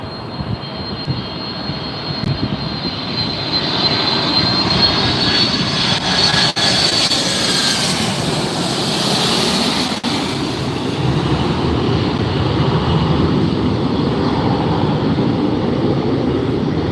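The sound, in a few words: Delta Boeing 767-400ER jet landing at LAX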